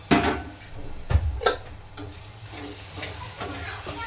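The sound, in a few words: tomatoes and winged beans sautéing in a pan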